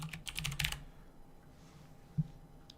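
A quick burst of clicky keystrokes on a computer keyboard fills the first second, then quiet with a single louder tap a moment later, close and fairly faint.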